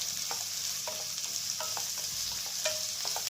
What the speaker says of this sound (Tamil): அந்த வெங்காயத்தை எடுத்து அதில் போட்டு நல்லா வதக்குங்க